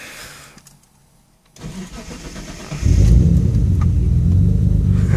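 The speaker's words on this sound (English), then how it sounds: "very first cold start on ethanol." A 1992 Mitsubishi 3000GT VR-4 tuned with an AEM EMS fires up for its first cold start on ethanol: a starter crank, a brief pause, then the engine catches and settles into a loud, steady, rumbling idle close by.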